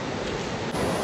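Creek water rushes steadily through the New River Gorge, a dense, close, unbroken roar of flowing water with no voices over it.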